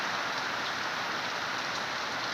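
Heavy monsoon rain pours down steadily during an evening downpour over farm fields, a dense, continuous hiss of drops drumming on surfaces at even loudness throughout, with no voices.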